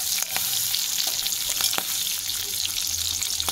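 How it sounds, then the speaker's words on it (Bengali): Green chilies and nigella seeds sizzle in hot mustard oil as a tempering, giving a steady, close crackling fry with small pops and occasional stirring and clinks. "এবার ফোড়নটা খুব ভালোভাবে ভেজে নেব।"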